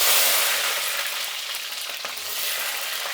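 Onions and garlic fry in hot oil with a loud, dense, continuous sizzle that barely wavers, close up and with no voices.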